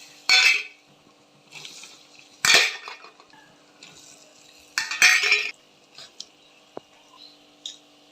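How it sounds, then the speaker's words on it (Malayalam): Garlic cloves tipped into a pan for garlic pickle, heard as three loud, close rattling bursts separated by quiet gaps, with small clinks and scrapes in between. "ഇനി ഈ വെളുത്തുള്ളിനെ ഇതിലേക്ക് ഇട്ട് കൊടുക്കാം."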